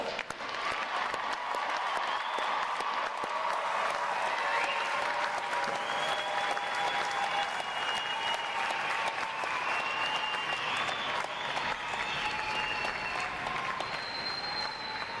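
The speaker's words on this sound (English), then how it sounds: "Let's give these 875 their final round of applause." Large audience at a U.S. Navy boot camp graduation for 875 recruits gives a long, sustained round of applause, dense and steady throughout, with faint crowd voices mixed in.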